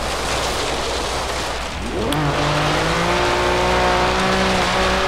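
A car drives along dirt roads in Forza Horizon 3, its engine humming steadily, then rising in pitch as it accelerates, loud and close, with a brief tire scuff midway.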